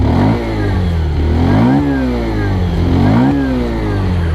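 A Bajaj Pulsar 125 motorcycle revs close by through its exhaust, the engine note climbing and falling back to idle in two distinct swells.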